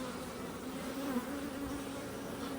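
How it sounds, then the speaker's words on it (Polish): Honeybees buzz at an open hive, growing agitated, making a steady, droning hum of many wings, close and even throughout with no speech. "Pszczoły się już trochę denerwują"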